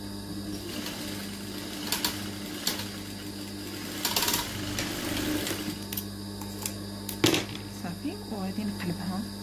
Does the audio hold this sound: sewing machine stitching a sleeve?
yes